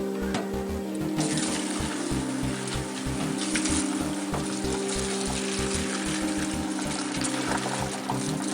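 Cooked macaroni pasta being poured into a colander to drain: a steady, moderately loud rush of water splashing for several seconds with no talking.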